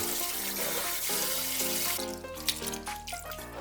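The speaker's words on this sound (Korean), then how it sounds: "물에 깨끗이 3번 정도 씻어줬다" Napa cabbage is washed in water in a sink, with running tap water splashing steadily and the sloshing of leaves being rinsed and handled close up.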